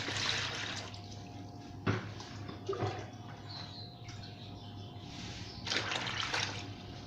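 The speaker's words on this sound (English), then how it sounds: "I'll add some water in here." Water poured into a cooking pot in a home kitchen while preparing pork: faint splashing gushes in a few short bursts, with quiet handling noises and a low background hum.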